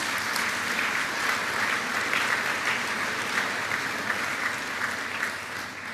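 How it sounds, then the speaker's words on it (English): Steady audience applause at an oration event, a dense even wash of many hands clapping that holds for the whole stretch and fades slightly at the end, with no voices over it. "Give them an applause."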